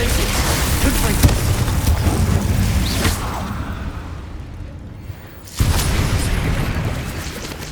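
The Confringo explosive spell in the game Hogwarts Legacy produces loud, roaring blasts that fade into a quieter lull. A sudden sharp boom then bursts back in at full strength.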